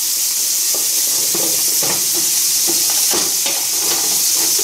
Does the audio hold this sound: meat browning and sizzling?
yes